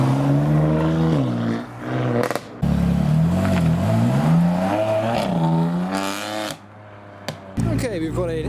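A BMW M3 engine revs and accelerates nearby leaving a car show, the pitch rising and falling through gear changes, with brief drops where the throttle lifts.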